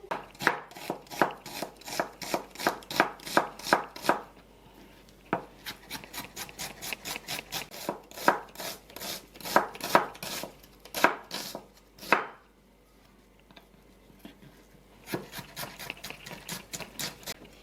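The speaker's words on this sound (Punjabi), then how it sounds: "ਚਲੋ ਫਿਰ ਆਪਾਂ ਚੌਪਿੰਗ ਕਰ ਲਈਏ ਆਪਣੇ ਟਮਾਟਰ ਪਿਆਜ਼ਾਂ ਤੇ ਲਸਣ ਦੀ" A knife chops rapidly on a wooden board through onions, tomatoes and garlic in quick bursts of even strokes, separated by short pauses.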